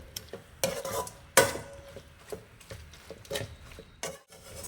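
A spoon stirs and scrapes egg in a hot pan for egg fried rice, giving irregular close clinks and scrapes over a faint sizzle.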